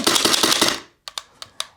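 A burst of rapid, sharp mechanical cracks from a B&T APC9K Pro SD2 airsoft gas blowback gun firing, then a pause and four separate snapping shots, loud and close.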